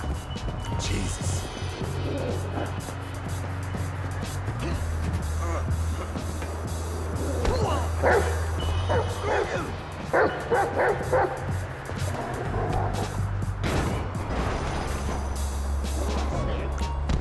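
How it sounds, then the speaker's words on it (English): A dog in the video game GTA V, during the mission Chop, barks and yips repeatedly, with whimpers in between, over a constant low rumble of game ambience. "This right here is one sick, nasty ass motherfucking dog."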